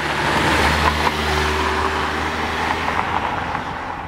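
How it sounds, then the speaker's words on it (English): A Mercedes-Benz C230 Kompressor with a supercharged 1.8-liter four-cylinder accelerates, its smooth engine drone rising under road noise with a brief louder swell near the start, heard from inside the car without speech. "Hit it, supercharger spools right up, and listen, buttery smooth."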